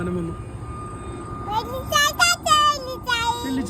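A propeller or jet airplane flies overhead near a house, a steady low rumble with a faint constant whine running through the whole stretch, while a voice and other talk rise over it in the second half.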